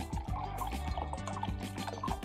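Liquid detox cleanser being poured from an 8-ounce bottle makes a close, gurgling trickle with rapid glugging drips that runs continuously, with no speech.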